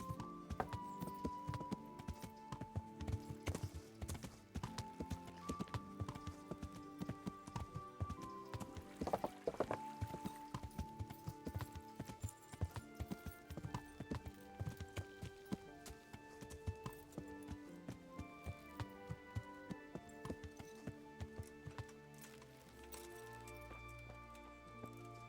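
Horse hooves clip-clop steadily through a medieval setting in Kingdom Come: Deliverance, a continuous rhythmic trot heard close and clear over background music, with little talk.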